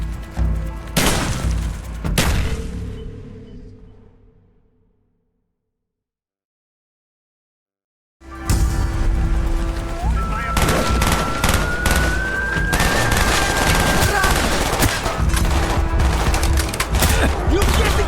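Call of Duty: Black Ops gameplay with heavy bursts of automatic gunfire and booms, a sudden silence of a few seconds, then sustained loud shooting with a rising siren-like tone and explosions.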